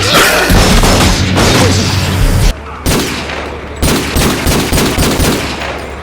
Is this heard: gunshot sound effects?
yes